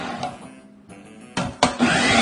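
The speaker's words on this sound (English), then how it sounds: "Drop them into our food processor. And then we're going to want to chop up our apples." A food processor whirs in short bursts as it chops apple slices, loud and close, with a brief pause between pulses.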